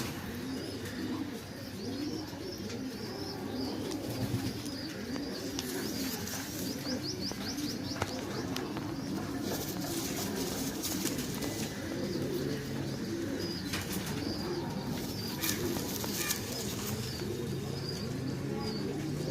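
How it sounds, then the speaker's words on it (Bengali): A female pigeon fluttering and scuffling about while being handled, with soft cooing and chirps from other birds around it and a constant busy loft background. "মাদিটা ছটপট করছে"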